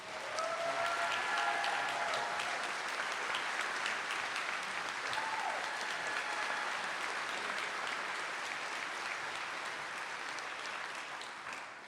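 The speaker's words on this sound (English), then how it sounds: "let's have another round of applause for those two fantastic speeches" A large audience at a university alumni convocation applauds steadily and warmly, a dense wash of clapping that holds for the whole stretch and eases off slightly near the end.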